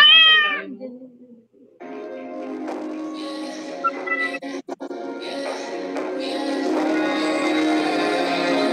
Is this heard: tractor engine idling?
no